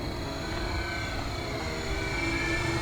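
An E-flite Beechcraft D18 1.5m RC warbird model flies overhead with a steady, loud electric motor and propeller drone that holds constant throughout, rising slightly in pitch near the end.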